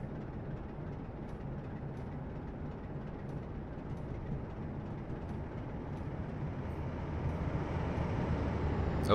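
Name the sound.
passing train in video game Train Simulator 2016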